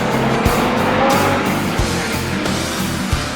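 A Chevrolet Monza IMSA race car drives on the track at a classic car event, its engine giving a loud, rough, continuous roar with rhythmic pulsing and brief accents as it runs close by.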